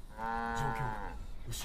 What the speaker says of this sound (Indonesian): ternyata itu adalah kumpulan sapi